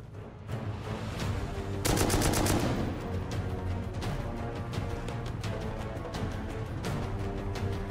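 An automated turret in the survival game Rust fires rapid, rattling bursts, loud and continuous, with an especially dense volley early on, followed by a steady stream of repeated shots.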